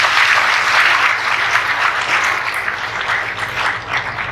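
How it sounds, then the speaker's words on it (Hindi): An audience at a spiritual talk claps loudly and steadily as dense, continuous applause for several seconds. "बहुत अच्छा, तालियां बजाएं।"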